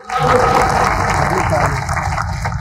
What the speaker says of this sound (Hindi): उनके भी सम्मान में तालियां एक बार बजा दो।